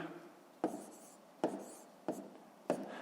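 A pen writing numbers on paper while working decimal arithmetic, quiet scratchy strokes punctuated by four sharper taps as digits and a comma are marked, close and faint with no talk.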